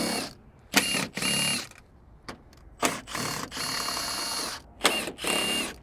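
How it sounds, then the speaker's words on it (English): An impact wrench removes the DRL light bolts from a Tesla Model Y Juniper front end in several sharp, loud bursts of whirring and rattling separated by short pauses. "Same thing with the impact wrench here."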